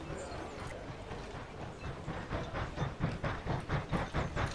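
Train from the video game Mashinky rolling along rails, a steady rumbling hiss with rhythmic clickety-clack beats growing louder and more regular toward the end, with no talking.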